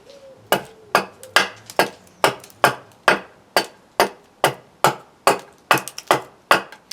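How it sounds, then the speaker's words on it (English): An axe chops into eucalyptus wood while shaping a bowl, about fifteen sharp evenly spaced blows, each a crisp woody thwack with a short decay, close and loud with no voices. "I'm going to be using my axe, and all I'm going to do is start from roughly the middle and start bringing this down"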